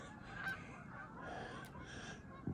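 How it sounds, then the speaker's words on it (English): A flock of Canada geese honking in the distance, a continuous chorus of overlapping calls carried over steady outdoor background noise. "They're called Canadian geese, eh? Canada geese, eh?"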